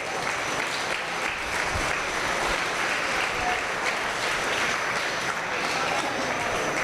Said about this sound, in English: Let's give these showmen a big round of applause.